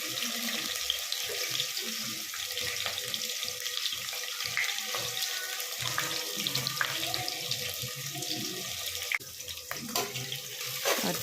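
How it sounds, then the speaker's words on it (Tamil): Four medium onions, sliced thin and lengthwise, sautéing in a pan for mutton biryani, giving a continuous loud sizzling hiss close up with scattered crackles and spoon scrapes and no talk. "ஆட் பண்ணிவிட்டு நல்லா வதக்கி விட்டுக்கோங்க."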